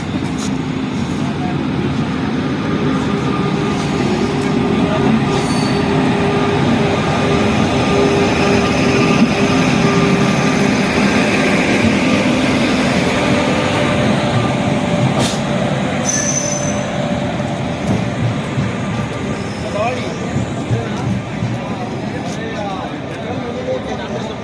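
An Amrit Bharat Express hauled by a Ghaziabad-shed WAP5 electric locomotive, number 30025, rolls past close and loud, with a continuous rumble of wheels on rails and high, sustained wheel squeal; voices are faintly audible beneath the train noise.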